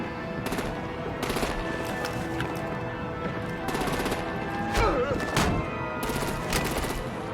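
Sustained machine-gun fire and repeated gunshots crackle through a dense wartime battle soundscape in the video game Batman: The Enemy Within, with heavier bursts and booms around the middle, constant and loud throughout.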